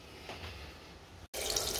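A household tap runs with a soft, steady hiss of flowing water, then after a brief break the flow comes through louder and brighter, with no talk over it.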